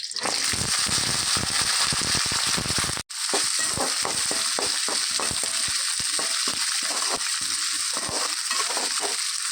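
Small onions sauté in a hot pan for a coconut mutton curry, a steady loud sizzle broken by repeated scraping stirs and one brief gap, with no talking.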